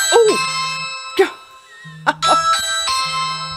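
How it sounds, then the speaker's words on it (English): A Ring video doorbell chime rings out indoors several times, with clear ringing tones that sustain and overlap, loud and close, along with brief vocal noises between the chimes. "I scared myself with my doorbell. Gotta love ring.com."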